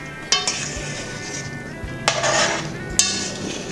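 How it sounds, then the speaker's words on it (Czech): Metal utensil stirring chicken paprikash in a pot and scraping the bottom, with three distinct clanking scrapes against the pot spaced a second or so apart over a low background hiss, no talking. "S tím ještě zamícháme hezky."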